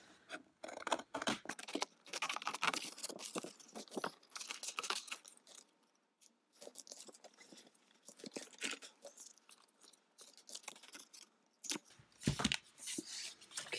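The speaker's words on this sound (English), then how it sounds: "So I'm just going to cut this out." Scissors cut out a paper card for a junk journal, a close series of crisp snipping and rustling sounds in irregular bursts with short pauses as the paper is turned.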